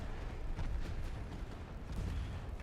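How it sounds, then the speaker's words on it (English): Distant battleship gunfire in Ultimate Admiral Dreadnoughts, a low rumbling series of muffled booms rolling on through a steady background. "Apparently my battleships are shooting at his battleship"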